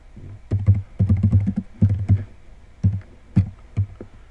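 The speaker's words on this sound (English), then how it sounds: "I'm just typing down what people are writing." Close, irregular clatter of computer keys being typed in quick bursts with short pauses between, no talking.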